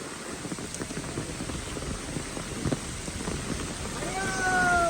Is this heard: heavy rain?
yes